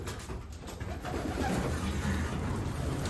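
Racing pigeons coo at their loft, a continuous soft murmur of overlapping low burbling calls from several birds, fairly close and steady, with no talking.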